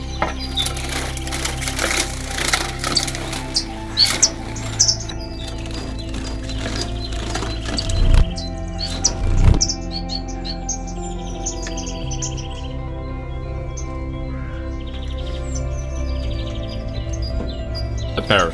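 Newly released finches, including parrot finches, silverbills and manikins, chirp and tweet inside a home aviary. Bursts of calls mix with fluttering and rustling over a steady background hum, busier at first and then calmer.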